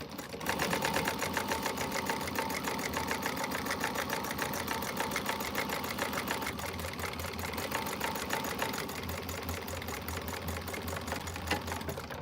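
A sewing machine top stitches a quilted bag with a steady, fast mechanical whir and rapid needle clatter that runs loud and continuous throughout, close to the listener.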